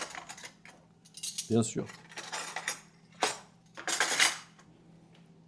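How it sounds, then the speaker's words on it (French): A metal spoon clinks and scrapes against a dish while honey is mixed in for a sweet chicken dish, giving several sharp irregular taps and brief scrapes, with a short spoken phrase. "on va mettre le miel et on va mélanger"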